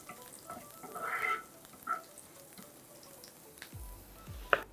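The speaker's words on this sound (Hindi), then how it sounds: "उपमा के लिए हम इसमें तड़का देंगे जीरे का" Cumin, grated ginger and green chili tempering in hot oil for samak rice upma, a soft, fairly faint sizzle with a few brief crackles and a couple of clinks toward the end, no voices.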